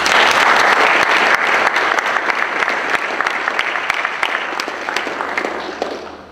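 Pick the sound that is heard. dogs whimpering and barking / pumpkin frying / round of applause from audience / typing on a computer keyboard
round of applause from audience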